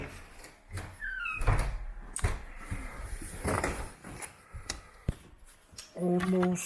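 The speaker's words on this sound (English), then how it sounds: "So I have to close my door." A door is pushed shut indoors with a few faint clicks and thumps, amid quiet shuffling handling noises, with a brief buzzing tone near the end.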